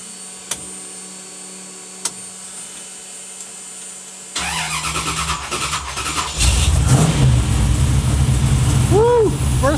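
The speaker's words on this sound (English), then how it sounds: "I think fired right up. Idle's high" A few faint clicks over a low hum, then a cold engine with a rebuilt Holley 4150 Brawler carburetor cranks and catches, running rough before revving louder and settling into a fast, high idle.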